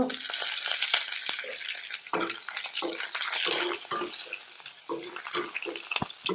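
Garlic, ginger, chili and curry leaves fry in a hot pan while a bilimbi pachadi is being made, a steady close sizzle broken by irregular clinks and scrapes of a spoon against the pan.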